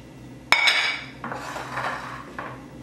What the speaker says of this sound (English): I'll take my baking dish